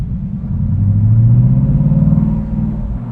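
A Revology 1966 Mustang Convertible in Vintage Burgundy Metallic drives past close by, its engine rumbling deeply and rising in pitch as it accelerates, then easing back, with no voices.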